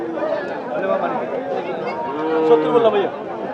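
Sahiwal cross-breed cattle at a busy livestock market, with a low bovine call rising through a steady crowd of chattering voices and someone talking close by.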